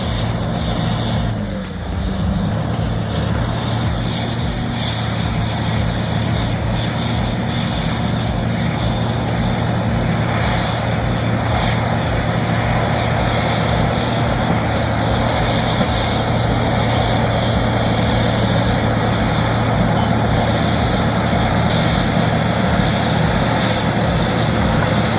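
A DT-75 turbo crawler tractor's diesel engine works steadily and loud for the whole stretch, a constant low rumble with a faint rhythmic clatter and no talking.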